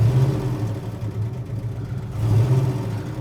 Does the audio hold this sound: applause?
no